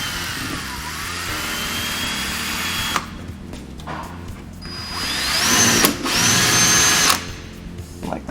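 A power drill bores holes through a plastic car fender while a car PA system is installed, its motor whining loud and steady in several close bursts with pitch rising and falling, no talk over it.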